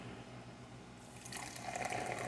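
Pink raspberry-limeade fruit drink poured into a plastic cup, a steady liquid stream that swells and grows brighter after the first second, close and alone with no talk.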